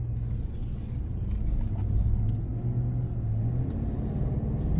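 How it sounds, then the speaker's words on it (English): A 2024 Chevrolet Silverado 1500 LT pickup with a 10-speed transmission drives along, its engine and road rumble a steady, fairly quiet drone heard from inside the cab, with no talking. "this is my first time driving a Silverado with a 10-speed transmission."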